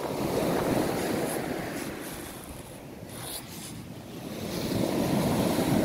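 Sea waves breaking on a sandy beach at Pitsunda in Abkhazia, a broad, steady wash of surf that swells, eases and builds again, with wind noise on the microphone and no voices.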